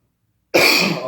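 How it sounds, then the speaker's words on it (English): A single sharp cough from a person working in a dusty bathroom while grouting a tile floor, sudden and close after silence, with a brief rough tail. "it's so dusty in here, I keep coughing."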